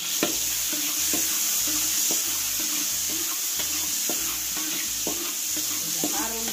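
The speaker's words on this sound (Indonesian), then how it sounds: "Kita mau tumis terlebih dahulu bawang putih." Garlic sautéing in hot oil on a stove, a steady loud sizzle with repeated rhythmic scraping strokes of a spatula stirring through the pan, close up and with no talk.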